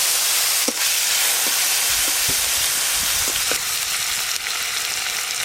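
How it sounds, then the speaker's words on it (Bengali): Whole spices, dried red chillies, turmeric, grated ginger and chopped tomato fry in hot oil for a Bengali katla fish kalia, a loud, steady sizzle with a few soft stirring scrapes and no talking. "গরম মশলা, শুকনো লঙ্কা ফোড়ন করে নেব। ফোড়ন হয়ে গেছে, হলুদ গুঁড়ো দেব, গ্রেট করে রাখা আদা, এবার দেব টমেটো কুচি"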